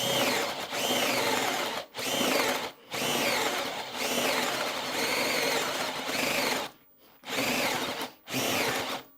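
A Bosch FlexiClick cordless drill driver on its fast speed whirs in long sustained bursts, broken by brief pauses, loud and close with a straining, grinding tone.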